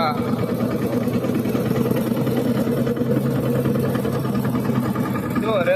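A Simba 20 mini tractor engine drives a large thresher working chickpeas, a loud, steady droning rumble throughout with a voice talking over it.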